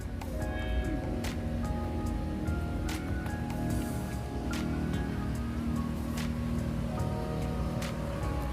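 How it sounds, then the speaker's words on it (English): Waterfall on an island in a park lake, a continuous broadband rush of falling water heard from moderately near, steady and unbroken, with faint outdoor ambience and no talking. "There's a waterfall."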